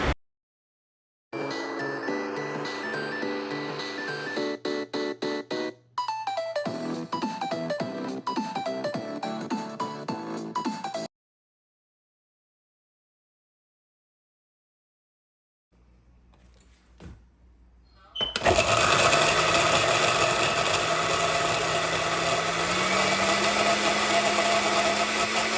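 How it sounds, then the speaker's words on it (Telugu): A mixer grinder blending soaked almonds into paste for badam milk, starting with short whirring bursts, then a long silence, then a loud continuous high-pitched motor whine near the end. "సో ఇవన్నీ ఒకసారి అయితే మిక్సీ పట్టేసుకుందాము."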